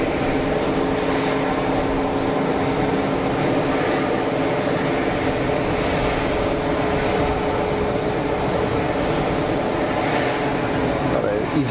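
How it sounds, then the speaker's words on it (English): An easyJet airliner on its takeoff roll at Geneva Airport, bound for Luton, producing a loud, continuous engine roar with a steady hum, unbroken and close throughout. "easyJet on the roll."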